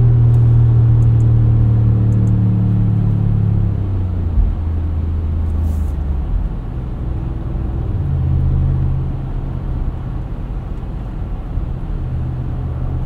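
A 2024 Audi SQ7 launches on snow, its engine booming low and loud at first, then easing into a steadier rumble as it pulls away, with no talking.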